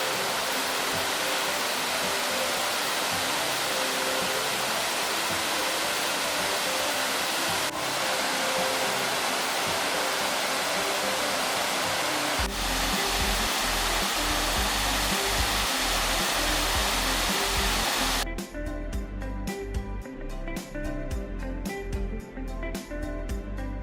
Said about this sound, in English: Hopefully you can hear me over the roar of the water.